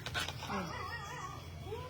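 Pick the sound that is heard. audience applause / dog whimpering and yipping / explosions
dog whimpering and yipping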